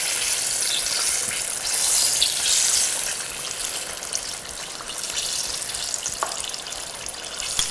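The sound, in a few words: mango rangoons deep frying in oil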